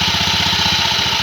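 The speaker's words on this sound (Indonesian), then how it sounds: "kita akan menghidupkan mesinnya sesuai dengan bunyi yang tadinya" A small engine runs at a steady idle with an even, rapid low chugging pulse, close and alone throughout.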